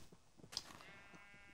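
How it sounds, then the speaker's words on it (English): A single short sheep bleat from Minecraft rises briefly over faint game background, near and fairly soft, with no voices. "I also have a black sheep in here."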